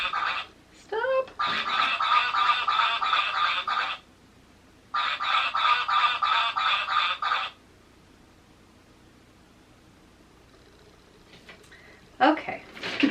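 Squeaky toy ducks quacking in long repeated bursts, loud and close, with two sustained runs separated by a pause and a short squeak at the end, amid a household toy clear-out.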